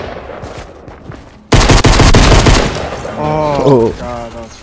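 Gunfire in the video game Fortnite, a sudden loud burst of rapid shots lasting over a second, followed by voices talking over the fading game sounds.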